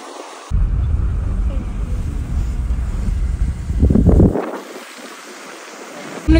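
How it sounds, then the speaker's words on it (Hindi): Cold wind blows hard during a snowstorm on a snowy road, a loud, steady low rumble of gusts battering the microphone for about four seconds, cutting off abruptly into quieter air. "बहुत ठंडी हवा चल रही है"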